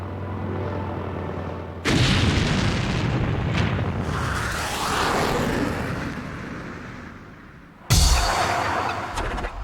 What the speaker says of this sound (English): Penultimate moment of the night show, a dump and burn from the F-111.